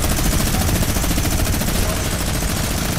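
Dense, continuous gunfire from a Fortnite match: rapid overlapping automatic bursts that hammer on without pause for the whole stretch, loud and close.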